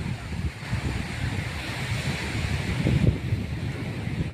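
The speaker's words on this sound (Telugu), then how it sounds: "అలలు అయితే చూడండి ఎంత ఎగిసి పడుతున్నాయో, చాలా గట్టిగా" Continuous roar of high surf washing in at Seethapalem beach, swelling slightly toward the end, with strong wind noise over the microphone.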